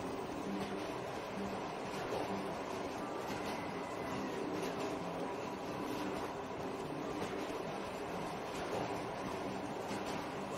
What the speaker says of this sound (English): The train's just getting longer and longer.